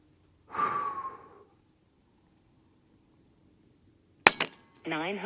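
A Western Airguns Rattler .30 semi-auto big bore airgun fires an 80 grain slug: a single sharp, close crack after a long quiet stretch, preceded by a breath and followed by a brief electronic tone.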